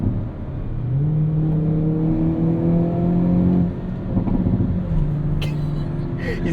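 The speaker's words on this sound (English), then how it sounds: "Ah, pops and burbles." A 2022 Hyundai Kona N accelerating, engine tone sweeping upward then easing off, with a brief crackle of exhaust pops and burbles near the end over steady road noise inside the cabin.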